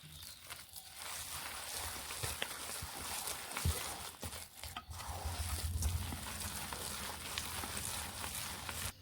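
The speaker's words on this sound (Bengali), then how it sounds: "একসঙ্গে বেশ ভালোভাবে এইভাবে দুই থেকে চার মিনিট এইভাবে মিশিয়ে নেব বেশ ভালো করে" Soaked urad dal paste for making bori is mixed by hand in a bowl, soft wet squelching and slapping strokes repeating at an uneven rhythm, fairly faint and close, with a few sharp knocks.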